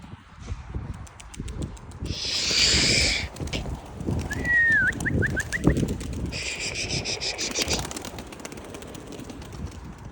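Caught birds at a spot in Buzovna beat their wings in two loud, close bursts, with a short chirp between them over steady outdoor background noise.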